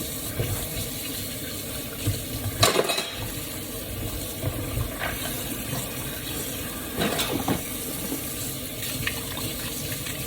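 Dishes crusted with stuck-on noodle residue are scrubbed in a sink under a running tap: a steady, close wash of water punctuated by several sharp clinks and knocks of crockery, with no talking.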